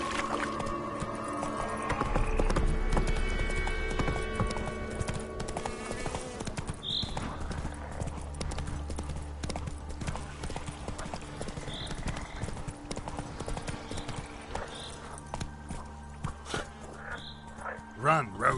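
Roach the horse gallops in The Witcher 3, rhythmic hoof clip-clops pounding steadily and close alongside game sounds, with a dog barking in places.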